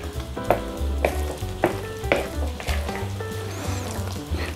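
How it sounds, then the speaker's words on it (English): A spoon works through a thick Christmas pudding mixture in a bowl, giving steady scraping and soft rhythmic knocks that repeat every half second or so, close and fairly loud. "what I'm going to do now is mix all that together with a spoon"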